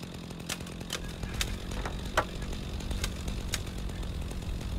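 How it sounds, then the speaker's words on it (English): A chainsaw runs in the video game Rising World, a continuous buzzing engine drone punctuated by sharp periodic clicks and ticks, steady and fairly close. "Okay, so this is a chainsaw."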